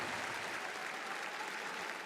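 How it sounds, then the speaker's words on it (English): Audience applause fills an esports event arena, a steady continuous wash of clapping at moderate distance with no talking over it. "Let's get a big round of applause for Netta and Team Tundra"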